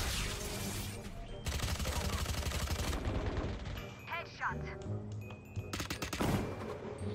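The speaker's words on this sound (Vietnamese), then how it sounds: "Người bắn gì ghê vậy." Gunfire in the tactical shooter Valorant, dense bursts of rapid shots forming loud, continuous volleys with short gaps between them, mixed with game sounds and some talk.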